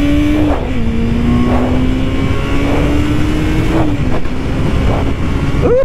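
A Kawasaki Ninja 650 motorcycle engine revs close by, holding a steady drone that climbs in pitch. Several quick blips and gear changes come through without pause.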